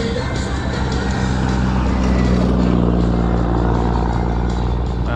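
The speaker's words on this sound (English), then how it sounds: "Cars pass" Road traffic rolls past at close range during a Yamaha Smax scooter ride, with a loud, continuous engine and road rumble and cars swelling by.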